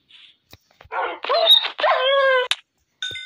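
Dogs in the Minecraft video game bark and whine in a few short, clear yelps and a drawn-out whimper, close and loud against a silent background.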